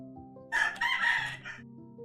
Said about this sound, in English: the rooster in the back is going crazy today